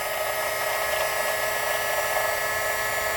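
A clock governor arbor and pinions spin in a small lathe, giving a steady, continuous high-pitched whine and hum that runs unbroken throughout, close and fairly loud, with no talking.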